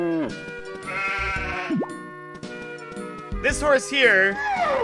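Sheep in the video game Harvest Moon: Magical Melody bleat several times in wavering, nasal cries, mixed with other synthetic game sounds and someone talking.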